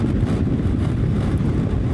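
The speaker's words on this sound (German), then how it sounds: "deutlich mehr Wind am Helm. Hört man jetzt bestimmt auch am Mikrofon." Steady roaring wind buffets a motorcycle helmet at speed on a Kymco AK 575 (2026) maxi-scooter with the windscreen lowered, a dense low rumble filling the whole stretch without pause.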